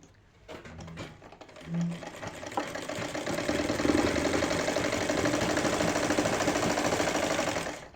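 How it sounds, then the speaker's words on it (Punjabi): A sewing machine stitches piping onto a kameez. After a few brief starts, it settles into a steady, continuous whirring run that is close and fairly loud. "ਇਸ ਤਰ੍ਹਾਂ ਆਪਾਂ ਸਲਾਈ ਲਗਾਵਾਂਗੇ"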